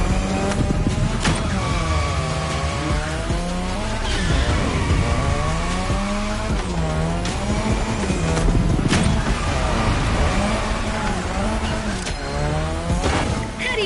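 A modded Mazda RX-7 in the racing game The Crew Motorfest, its engine revving up and down steadily while drifting, with brief tire squeals, loud and close throughout.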